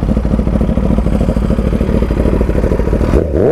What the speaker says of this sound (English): I'm really excited to take this bike for a ride